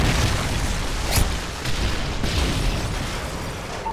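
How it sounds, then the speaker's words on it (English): A Predator missile explosion in Modern Warfare 3 gameplay rolls out as a loud, sustained rumbling roar with a sharper burst about a second in, filling the whole stretch. "Friendly Predator missile inbound."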